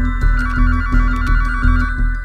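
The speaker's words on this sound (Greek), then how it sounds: "το τηλέφωνο στο σπίτι των Αμάτο χτυπά." A telephone rings in a house, repeated electronic ring bursts in a steady rhythm, loud and close with no voices.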